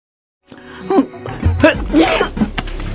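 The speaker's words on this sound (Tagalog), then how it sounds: "Kanina ka pa bahing ng bahing dyan." A person sneezes several times in quick succession from breathing in dust at home, in short loud bursts close to the microphone, with no talk in between.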